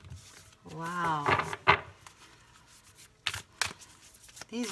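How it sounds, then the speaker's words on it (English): Tarot cards are shuffled by hand in quick riffling bursts, stiff cards hard to shuffle, heard close alongside a woman's speech. "These are hard to shuffle."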